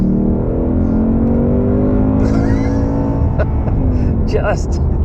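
A 2021 Ford Mustang Mach 1 accelerates hard in second gear, its V8 note rising steadily beneath someone talking throughout, loud and close from the cabin.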